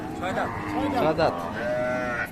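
A Deshal breed dairy cow with her calf moos at a cattle market in Raniganj. Loud, close, drawn-out lowing with a wavering pitch fills most of the two seconds.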